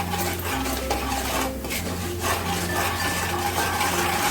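Egg biryani masala being sautéed with salt, a continuous scraping and stirring of a spoon against the pan under a low steady hum, close and without speech.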